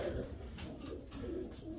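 Soft, low cooing of young pigeons murmurs continuously, several birds overlapping in a steady burbling hum.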